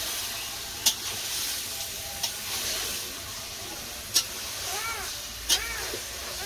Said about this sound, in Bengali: এই পাশে আছে মাংসের তরকারি, মাংসের তরকারি কষে গেছে